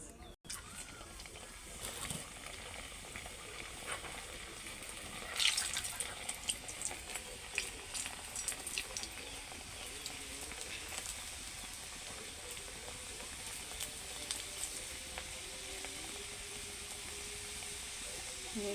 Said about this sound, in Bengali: আমার তেল গরম হয়ে গিয়েছে, এই দেখেন কেমন ফুলে উঠেছে।